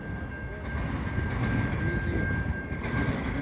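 A CN freight train with an AC44C6M second unit rolls past the St Ambroise Street crossing in Montreal in light rain, a steady, close, continuous rumble with a thin sustained tone above it and no talking.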